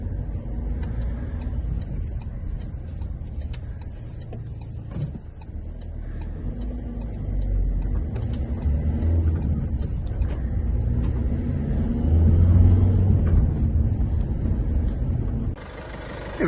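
Interior drone of a 2010 Citroen Berlingo XTR 1.6 diesel MPV on a test drive, a steady low engine and road rumble with light ticking and rattles throughout and a brief swell midway.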